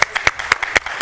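Studio audience applause on a Turkish daytime talk show, heard as a brief run of sharp, evenly spaced claps that stay fairly loud and close.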